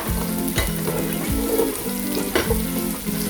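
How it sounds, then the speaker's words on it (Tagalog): Onion sizzles in hot oil for sopas while a utensil stirs it in regular sweeping strokes, roughly every second, over a constant frying hiss. "Nagpainit lang tayo ng mantika, tapos diretso na yan, lagay na agad yung sibuyas, then gisa-gisa"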